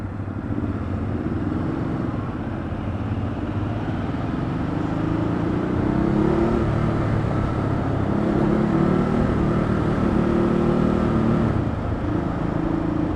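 Ducati Hypermotard 939 motorcycle engine droning steadily at close range while riding, the pitch rising and dipping slightly as it shifts from first to second gear, with no talking.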